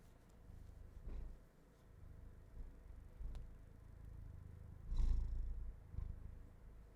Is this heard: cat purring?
yes